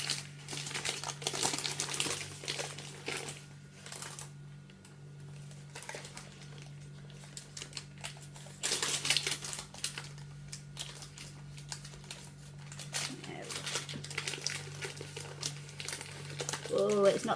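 Greaseproof paper is peeled away from a hot, freshly baked ginger sponge cake in a home kitchen, giving soft, irregular crinkling and rustling bursts that come and go quietly over several seconds, with a person talking intermittently.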